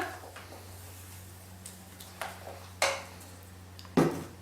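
A utensil stirs chocolate cake batter in a bowl, giving a few soft scrapes and sharp clinks against the bowl that grow more distinct toward the end, over a low steady hum.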